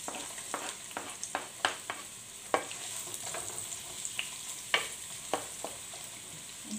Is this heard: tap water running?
no